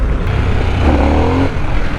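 A Harley-Davidson Sportster S 1250cc motorcycle engine drones loud and close while riding, with a brief rising rev in the middle of the short stretch and wind rush underneath.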